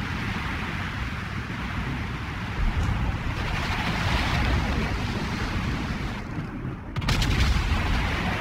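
Naval ship guns firing shells in the video game World of Warships: heavy booming blasts over a continuous roar of sea and engine noise, with a sharp burst near the end.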